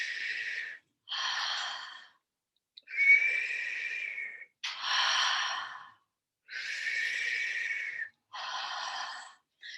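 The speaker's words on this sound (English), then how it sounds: "letting the breathing become more vigorous if you like, increasing the intensity of the pranic draw at the urethral area" Vigorous yogic pranayama breathing, close and loud: about seven long, forceful breaths in and out, rushing and airy, separated by brief silences, with no speech.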